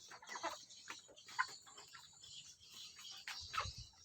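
Free-range village chickens cluck in short, scattered bursts in a small backyard farm, with a few louder calls standing out against a steady background of farmyard noise.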